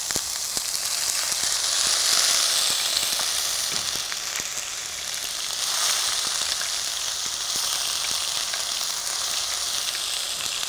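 Ginger garlic paste frying in ghee gives a steady close sizzle and crackle, continuous hissing spatter throughout with no talk.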